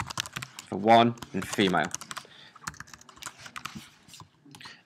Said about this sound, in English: so I'm going to type in male